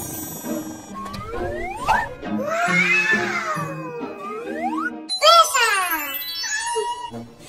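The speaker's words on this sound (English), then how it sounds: "just a cat." A cat meows repeatedly, several rising and falling cries, clear and close, with someone speaking between and over the calls.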